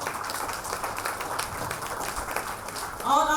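Audience applause in a hall for a speaker's mother at a health talk, steady broadband clapping throughout, with a brief tonal sound near the end.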